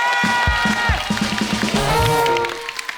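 A studio audience at The Kapil Sharma Show breaks into applause and cheering, which builds for a few seconds and then trails off under a tonal musical sting.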